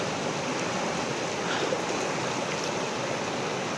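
Continuous rushing of the flowing stream at Rangpani, Sripur, Jaintapur, Sylhet, Bangladesh, even and fairly close, with no voices.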